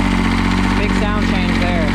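A New Holland LS125 skid steer engine runs at a loud, steady idle, its low throb continuous while a voice talks briefly over it.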